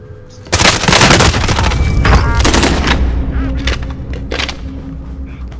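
Gunfire in a shooter video game, a sudden loud burst of rapid shots that rattles for a couple of seconds, then trails off into decaying echoes and scattered softer pops.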